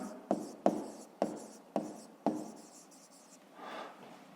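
Numbers being written by hand for a 5th-grade math exercise, five crisp pen or chalk strokes at a steady rhythm, close and quiet, followed by a soft scratchy rustle.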